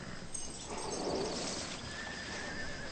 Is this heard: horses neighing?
yes